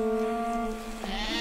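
A sheep bleats in snowy mountain pasture, one long, wavering, close call that fills nearly the whole moment, with quiet outdoor ambience around it.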